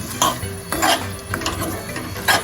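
Spoon scraping and clacking against a pot as fresh green coriander is mixed into a ripe banana curry off the heat, a few distinct close strokes with soft thick stirring between them.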